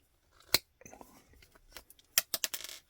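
Wire strippers cutting through a small screw between the blades; a sharp snap followed by a cluster of quick metallic clicks and crunches, close and fairly quiet.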